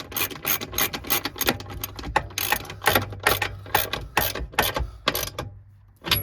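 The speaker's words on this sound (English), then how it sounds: "I'm going to change ratchet to just get those down quicker" A hand ratchet spins rapidly, tightening seat bolts on a swivel double seat being fitted in a Ford Transit Custom van, giving dense bursts of close metallic clicking with brief pauses between strokes.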